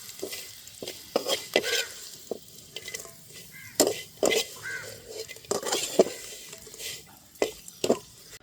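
Papadam is stirred and fried in a pan, sizzling steadily while a utensil scrapes and taps against the metal in repeated close strokes.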